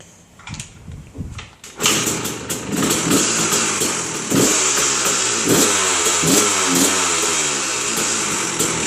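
A 2003 KTM 300 EXC two-stroke dirt bike is kicked over and catches on the first kick, then runs loud and close, idling with sharp blips of the throttle.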